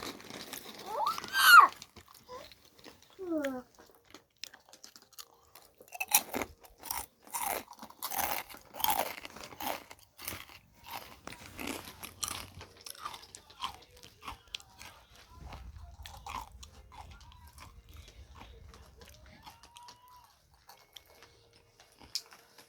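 Toffee the dog crunches and chews a snack up close, with bursts of crisp bites and chewing separated by quieter pauses and a few spoken words.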